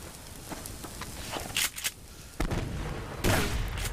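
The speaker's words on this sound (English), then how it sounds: "they're throwing grenades and shit at me" Grenade blasts and gunfire from the survival game Subsistence crack out as a few sharp, loud bursts over a steady background rumble, with two close explosions near the middle and a heavier blast toward the end.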